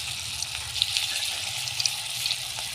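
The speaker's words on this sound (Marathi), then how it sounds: "आता आपण सोडून घेऊया गोळे कमी जाळावर छान भाजून घेऊया तळून घेऊया" Cabbage manchurian balls frying in oil on a low flame, a soft continuous sizzle with faint bubbling pops scattered across it, close but quiet and unbroken by talk.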